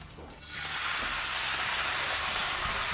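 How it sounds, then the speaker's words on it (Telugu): Dry red chillies frying in hot oil for a gongura chutney, a steady broadband sizzle that swells up after a brief quieter start and then holds evenly, close and fairly loud with no voices. "ఎండుమిరపకాయలు నూనెలో గోలించుకోవాలి"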